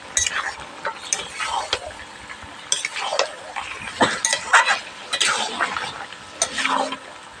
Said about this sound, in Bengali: আলু ও চাল কুমড়োটা দিয়ে দেবো এবার একই সঙ্গে খুব ভালোভাবে এগুলোকেও কষিয়ে নিতে হবে